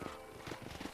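Horse hooves clip-clop in a quick, even trot across ground in Red Dead Redemption, a series of soft thuds over one second at moderate distance.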